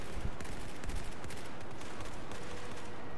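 Steady gunfire rattles through Battlefield 4 on the Metro map, a continuous dense wash of shots and distant explosions, loud and unbroken.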